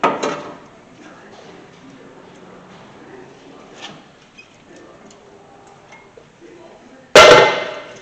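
A screwdriver pries the dual-piston brake caliper off a 2011 Ford F-150, giving faint metallic ticks and scrapes and then one loud sharp clank near the end.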